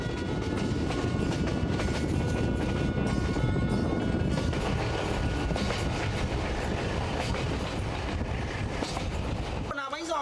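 A sleeper train in Vietnam rumbles steadily along the rails with a continuous roar and rattling clatter, voices faintly audible beneath the noise.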